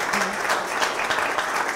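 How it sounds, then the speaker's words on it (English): Audience applause at a history talk, a short burst of dense, steady clapping from a room of listeners, fairly loud throughout. "can we have a round of applause for Larry?"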